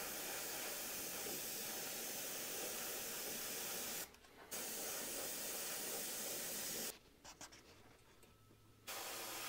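Primer sprays in light, even coats onto tungsten fishing jigs as a continuous aerosol hiss, broken by two short pauses and a longer one near the end.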